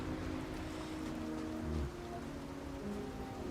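Steady rain falls outside in a soft, even hiss, faint and continuous with no talking.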